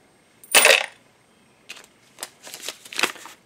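A couple of different coins clatter into a geocache box in one loud burst, followed by several lighter metallic clicks and taps as they settle and are handled.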